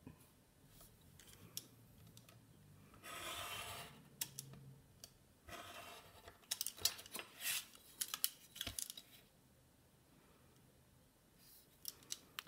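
Scissors trim surplus cardboard for a scrapbook album structure: quiet, close snips and one longer stretch of cutting, mixed with scattered light clicks and taps against a near-silent room.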